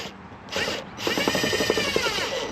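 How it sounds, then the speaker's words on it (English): Stainless steel screws driven straight into a caravan without pre-drilling by a power driver, giving a steady, loud whirring grind with ratcheting clicks, a brief burst first and then a longer continuous run. "Let's get some screws in"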